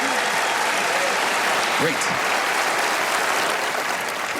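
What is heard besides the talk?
audience applause for a volunteer waitress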